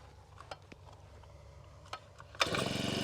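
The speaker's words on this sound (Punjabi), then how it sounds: "ਪਹਿਲੀ ਰੱਸੀ ਸਟਾਰਟ ਹੈ ਉਹ ਬਾਈ ਜੀ ਪੰਪ ਹੀ ਉਹ ਹੈ ਜਿਹੜਾ ਪਹਿਲੀ ਰੱਸੀ ਸਟਾਰਟ ਹੋਵੇ" Crop sprayer pump engine on a wide-spray drum rig fires up on the first pull of the starter rope. Faint clicks and handling come first, then the engine bursts into a loud, steady, close running drone.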